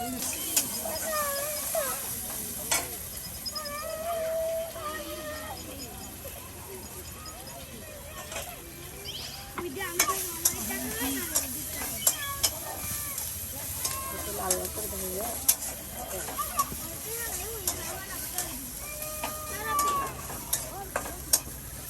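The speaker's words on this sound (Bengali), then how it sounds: "দেখুন কত সুন্দর করে আপনার পেঁয়াজগুলো তেলে ভেজে নেওয়া হচ্ছে" Onions frying in hot oil with cumin and garam masala, a constant close sizzle with repeated stirring scrapes, while a voice talks over it throughout.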